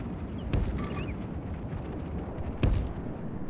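Siege ballistas in the Third Age Total War battle game fire with two sharp, heavy thumps about two seconds apart, standing out over a dense, rumbling battlefield din with no talking.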